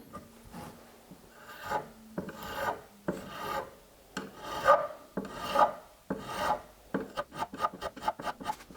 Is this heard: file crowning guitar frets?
yes